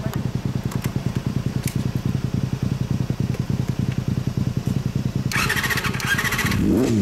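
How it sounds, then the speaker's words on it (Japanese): A 1992 Honda CBR250RR Repsol replica, fitted with an aftermarket muffler, idles close by with a rapid, steady engine patter. Near the end it rises into a sharp rev, with no talking over it. "エンジン音聞かせてくれる？"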